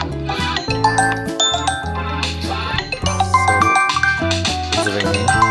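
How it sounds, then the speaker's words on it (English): A mobile phone rings through a smartwatch find-device feature, playing a bright, steady melodic ringtone of repeating tones throughout, close and clear. "Mobile is ringing."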